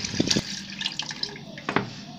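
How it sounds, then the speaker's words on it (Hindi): Water is poured into a pot while making beef paye, giving uneven splashes and drips in short bursts over a couple of seconds. "इसमें सारा का सारा पानी ऐड कर दूँगी"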